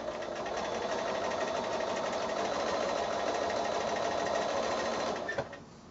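A sewing machine with a walking foot quilting fabric runs in a steady, fast, continuous stitching whir for over five seconds, then stops near the end.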